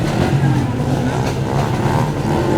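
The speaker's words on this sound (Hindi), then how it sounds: "सलेंसर पे निकाले हैं भाई बाइकों के।" Several motorbikes with their silencers removed rev loudly and continuously at a street celebration in Kanpur, a dense, rough engine roar filling the whole moment with faint crowd noise beneath.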